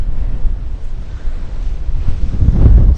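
Strong wind buffets a microphone on a small Rhode Island beach after a snowstorm, a loud continuous low rumble that gusts and swells toward the end, with surf faintly underneath and no voices.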